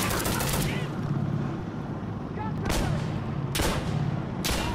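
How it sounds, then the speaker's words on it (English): Rapid gunfire from AI soldiers in the tactical shooter Insurgency Sandstorm, a dense sustained volley followed by several sharp loud bursts, fairly close. "The AI keeps shooting through walls!"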